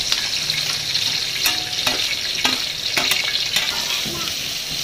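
Whole spices frying in oil for a large pot of chicken biryani, a continuous close sizzle broken by several sharp stirring scrapes and clinks of a utensil against the pot, with no talk.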